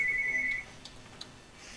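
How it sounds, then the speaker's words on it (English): An electronic phone ring, a steady beeping tone for about half a second, then quiet with a couple of faint clicks. "Oh my god, the phone won't stop ringing."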